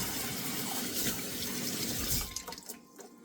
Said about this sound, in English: even though I have my lemon, I'm gonna have to wash it before I use it